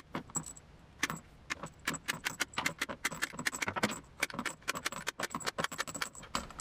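Rifle cartridges are peeled one by one off an AR-15 magazine by hand, a busy run of close, sharp metallic clicks and jingles with quieter scraping between them and no talking.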